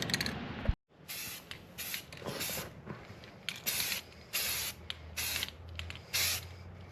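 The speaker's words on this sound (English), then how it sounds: "Got 717 Savages doing the first coat on the Grom wheel." An aerosol can sprays a coat onto a 2024 Honda Grom wheel in a series of short hissing bursts, close and crisp, separated by brief pauses, with a faint low hum underneath toward the end.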